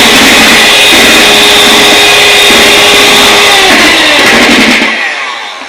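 An electric hand beater on its lowest speed mixes oil into cake batter, a loud, steady motor whir with a faint rhythmic hum that runs unbroken for about five seconds before switching off abruptly.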